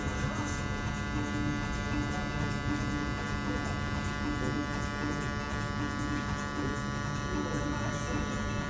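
Electric hair clippers buzz steadily and close up while cutting a burst fade, a constant whirring hum that runs the whole time with quiet talking mixed underneath.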